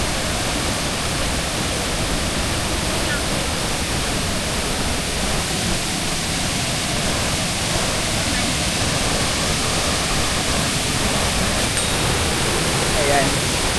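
Waterfall in Agusan del Sur, a loud, steady roar of falling water heard up close, unbroken across the whole stretch.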